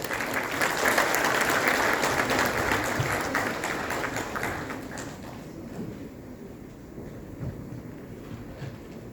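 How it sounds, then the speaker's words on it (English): Hall audience giving a big round of applause to welcome a government secretary at an Asian mining congress, dense clapping loud at first that gradually thins and fades over several seconds. "With a big round of applause,"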